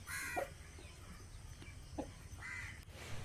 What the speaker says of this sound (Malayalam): അതൊക്കെ കോഴിക്കൾ ചെനക്കിയിട്ട് അവർ കൊത്തി തിന്നണ രംഗാണിത്